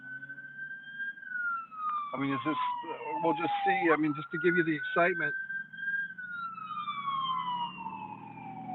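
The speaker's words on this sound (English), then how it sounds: "there's an ambulance coming by" An ambulance siren wails up and down throughout, moving past at moderate distance near a parking lot, while someone talks over it in the middle.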